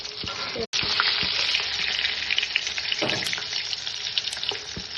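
Koi fish fry in hot oil for a Bengali oil-koi dish with a loud, continuous crackling sizzle, close by, and a couple of brief clatters from the pan.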